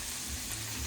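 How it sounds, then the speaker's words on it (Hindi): Steady, close sizzling of frying in a pan as broccoli and vegetables cook to golden, a dense continuous hiss with no pauses or voices. "मैं इसको अच्छे से फ्राई कर लूंगी"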